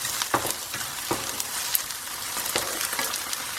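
Ginger and garlic fry with translucent onions in a pan, giving a steady close sizzle with sharper crackling bursts and stirring scrapes along the way.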